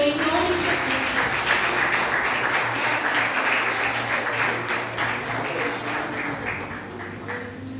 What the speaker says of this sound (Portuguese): E as palmas louvam a Senhor, em nome de Jesus.